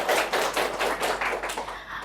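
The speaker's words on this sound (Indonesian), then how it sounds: "Berikan aplaus buat 3-3-nya" A classroom of students claps for three lucky prize-winning classmates, a dense burst of applause that fades slightly toward the end.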